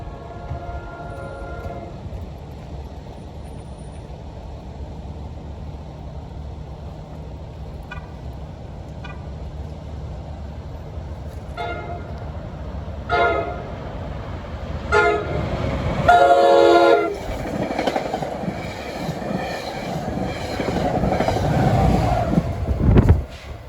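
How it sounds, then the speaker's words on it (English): NJ Transit commuter train 64 on the Port Jervis–Hoboken run roars through Ramsey station without stopping, a steady rumble building, horn blasts sounding midway, then loud wheel and car noise as it passes close. "at 3:17 p.m., this should be train 64. Runs between Port Jervis and Hoboken."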